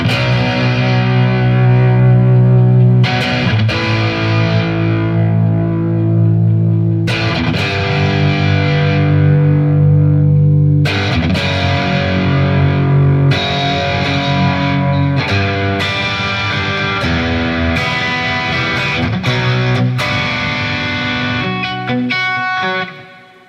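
A loud, heavily distorted electric guitar plays sustained chords and riffs, with thick, saturated tone ringing out before stopping abruptly at the end.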